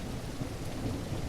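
Steady rain with rumbling thunder in the Sunset Motel game: a dense, continuous wash of loud rainfall with a low rolling rumble underneath, and no voices.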